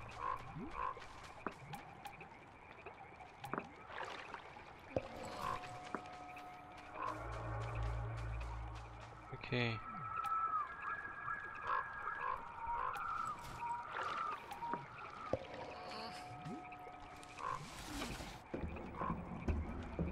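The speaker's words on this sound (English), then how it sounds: "There's a frog." A frog in the video game Tiny Echo croaks repeatedly amid layered game music and ambient effects, a steady series of moderately loud calls with no talking.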